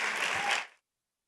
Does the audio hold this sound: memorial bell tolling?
no